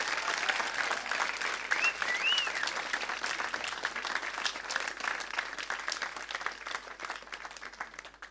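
A crowd claps warmly and at length in a steady, dense stream of many hands, even in level throughout, with only a brief voice faintly above it early on.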